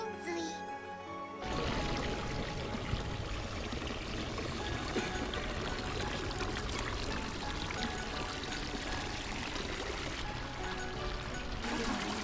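Water pours steadily from the mouths of nine dragon spouts at the Kuzuryu shrine by Lake Ashi in Hakone, a dense, continuous splashing stream that stays loud and even throughout after a brief quieter opening.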